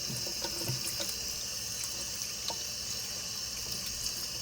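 Salmon fillet rinsed under a running kitchen tap, with a steady broadband rush of water and faint clinks from the sink, continuous and close throughout.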